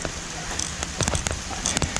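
Light rain falls at a cemetery in the ancient city of Derbent, Dagestan, a steady soft patter with scattered nearby drops and faint background sounds.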